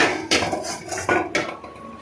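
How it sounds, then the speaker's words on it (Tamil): A kadai pan goes onto a lit stove, giving a close metallic clatter of three or four clanks and rattles in quick succession before the ringing fades. "இப்ப நம்ம கடாயை வச்சுக்கலாம்."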